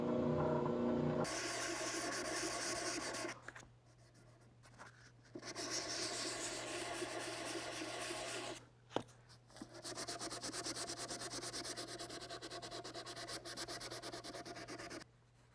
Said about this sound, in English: I'm going to sand the rest of the way.